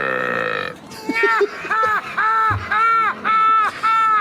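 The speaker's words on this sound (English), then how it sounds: "Then the guy comes in and burps top volume" A man lets out a long, loud burp at top volume, followed by a series of rhythmic, croaking belch-like bursts, close and prominent, with some voices in the background.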